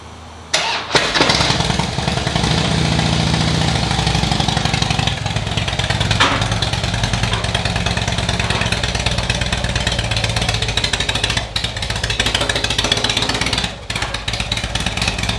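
A Harley-Davidson Night Train motorcycle on stock exhaust pipes starts up and settles into a loud, steady, close-up idle with a throbbing rumble, with no talk.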